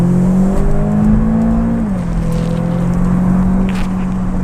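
An Audi A1 S line TFSI with a stage 1 tune accelerates hard in sport mode, its engine note climbing steadily as a loud, continuous drone, then dipping briefly and holding on through the rest of the run.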